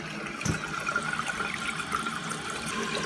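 Toilet tank running as water slowly leaks down the overflow, a soft, steady trickle and hiss with a faint knock near the start, fairly close and quiet.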